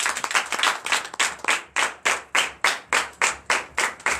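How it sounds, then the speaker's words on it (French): A church congregation claps in unison at a Sunday service in Benin, loud rhythmic hand claps in a steady beat of roughly three per second, close and without talk. "que je vous demande d'applaudir très fort"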